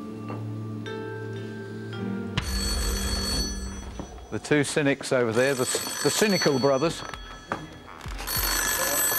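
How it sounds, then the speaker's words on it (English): A telephone bell rings loudly and insistently on the Deal or No Deal UK game show set, its sustained ringing heard alone at first and again at the end, with someone talking over the middle stretch. "And this is an important phone call."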